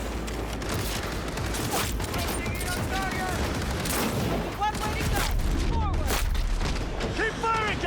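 Rapid gunfire in a Cyberpunk 2077 firefight, dense bursts of shots and booms layered continuously over busy game noise, with voices shouting throughout.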